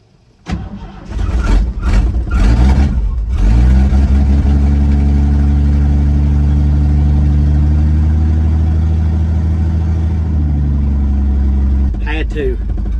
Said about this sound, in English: Had to hold the gas there for a little while just to get it to where it could idle.